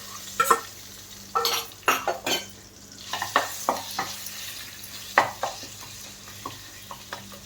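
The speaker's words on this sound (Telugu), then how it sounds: "ఇలా కలిపిన మిశ్రమాన్ని కడాయిలో వేసి అటు ఇటు ఒక 4 సార్లు" A turmeric rice mixture for mango pulihora gets stirred in a kadai, a series of scraping, sizzling strokes of the spoon against the pan coming in separate bursts, close and fairly loud, with quieter gaps between them.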